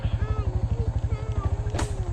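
A motorcycle rides along a rough road toward a dam in the evening, its engine thumping in a fast, even pulse close to the microphone while someone talks over it.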